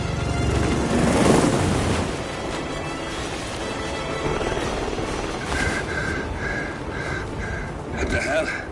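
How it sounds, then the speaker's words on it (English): Helicopter lifting off in the Hitman video game, a steady rotor and engine roar running throughout at moderate loudness, with game dialogue and other sounds layered over it. "Alexa Carlisle's helicopter just took off."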